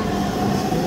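Dhaka Metro Rail train running on its Mirpur 11 route, a steady low rumble and hum of the car rolling along the track, continuous and close with no talking.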